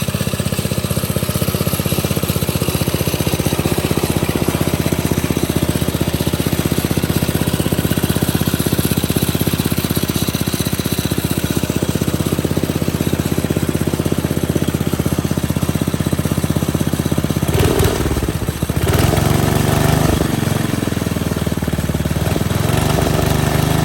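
A replacement engine on a mini bike runs steadily and loudly up close, a continuous buzzing drone that roughens briefly near the end with a couple of revving surges.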